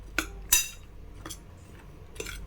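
A utensil scrapes and clinks against a bowl while stirring flour, baking soda, baking powder, raisins and nuts for a banana cake, giving a few sharp taps spaced across a quiet background.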